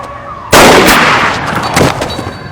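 A single loud, close gunshot from a crime drama scene blasts out sharply, followed by a lingering noisy decay and a smaller second burst, with no talk over it.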